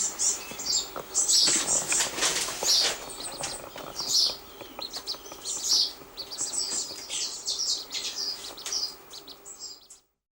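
Rescued ducklings being cared for at a wildlife centre chirp in a busy, overlapping chorus of high peeps that continues close by for about ten seconds, with faint rustling beneath.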